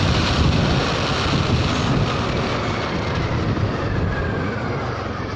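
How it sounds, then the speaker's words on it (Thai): Steady, loud wind roar buffets an open helmet visor on a Honda Forza 300 scooter at riding speed, a dense continuous rush with no breaks. "ผมเปิดหมวกไปตลอดทางนะครับลมเข้าหน่อย"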